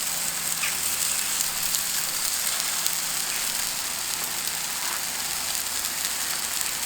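Black pudding from Duchy Charcuterie sizzling on a Kamado grill during a barbecue breakfast fry-up, a steady dense crackling hiss that carries on evenly with tiny pops scattered through it, close and fairly loud.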